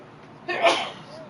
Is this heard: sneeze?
yes